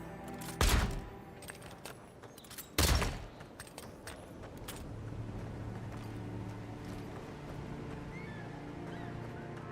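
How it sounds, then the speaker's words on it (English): Two loud, sharp pistol shots in the video game Avowed, a couple of seconds apart near the start, followed by a low, steady ambient game rumble. "Let's try out the pistol."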